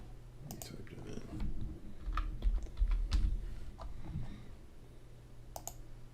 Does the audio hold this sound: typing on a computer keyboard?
yes